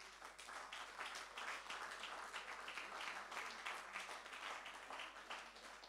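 A church congregation applauding and cheering during a sermon, steady dense clapping from a crowd heard at a distance and fairly faint.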